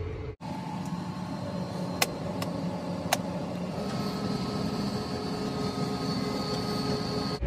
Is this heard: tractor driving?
yes